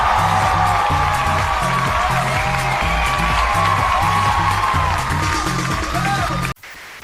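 A television studio audience erupts, loud sustained cheering and applause over pounding music, ending abruptly.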